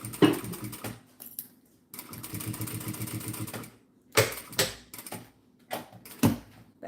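Sewing machine top stitching clear vinyl, close rapid mechanical chattering in several bursts of one to two seconds separated by pauses and a few sharp clicks, no talk.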